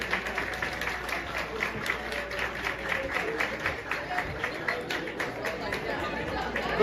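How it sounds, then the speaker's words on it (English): Audience applause at a school fundraiser expo, clapping for a table of participants: steady, moderate crowd clapping mixed with chatter and background voices throughout. "A round of applause for table 11."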